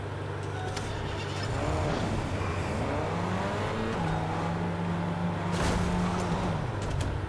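Car engines humming and revving in a parking garage in the video game Escape Room: Tokyo, with steady low drone and rising and falling engine pitch, plus a couple of sharp mechanical clunks, fairly loud and close.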